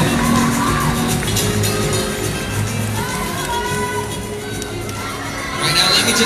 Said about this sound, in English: Let us give our ladies a big round of applause, please.